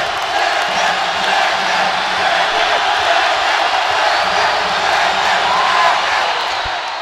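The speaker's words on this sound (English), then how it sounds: "And listen to this crowd in Raleigh." A large crowd at an NC State men's college basketball game against Bucknell in a Raleigh arena roars steadily and loudly, a dense wall of cheering and shouting that persists throughout without a break.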